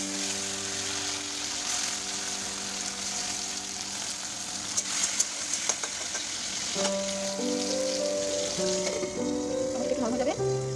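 Chopped tomatoes sizzle as they fry in a pan of oil with pepper and garlic for a Bengali dish, a close, continuous crackling hiss, with a voice and some tonal sounds rising over it later.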